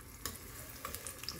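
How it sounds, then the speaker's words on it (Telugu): Garlic sizzling in hot oil for a tempering, a soft steady frying hiss with faint pops and crackles close by. "ఇదిగోండి వెల్లుల్లిపాయలు వేస్తున్నాను. వెల్లుల్లిపాయలు వేయంగానే నూనెలోకి మనకు అసలు మంచి వాసన వచ్చేస్తూ ఉంటుంది తాలింపులోకి."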